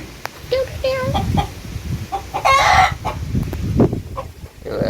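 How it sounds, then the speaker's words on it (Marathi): Chickens on a village farm, including reverse-feathered birds kept in separate compartments, cluck and squawk close by in irregular bursts, with a brief rooster-like crow in the middle. "भारी कोंबडी आहेत."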